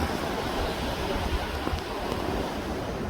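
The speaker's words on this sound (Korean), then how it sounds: "파도 소리도 좋습니다" Ocean waves wash steadily against the shore on the Jeju coast near Seongsan Ilchulbong, a continuous broad rushing roar with no break, close and fairly loud.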